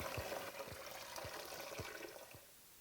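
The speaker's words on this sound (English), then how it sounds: "Now we need to pull the grain bag out of the sweet wort and let it drain." Sweet wort drains from a lifted grain bag into a pot while home brewing a pale ale, a steady trickling stream with soft drips falling roughly twice a second, close and quiet.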